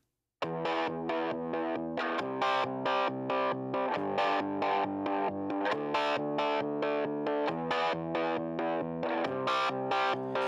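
Electric guitar through effects pedals with heavy distortion and chorus plays a steady, rhythmic chordal pattern, loud and alone throughout.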